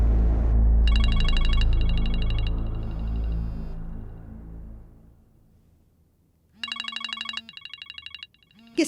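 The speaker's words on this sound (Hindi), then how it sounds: "किसका फोन आ रहा है?" A telephone rings with an incoming call, bursts of electronic trilling that stop, leave a low hum, and then start again in repeated pulses.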